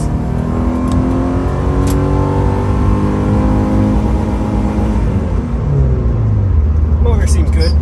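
A car engine, swapped into a 2004 car, revs and pulls loudly up close, pitch rising and settling in steady sweeps, with a brief clatter near the end.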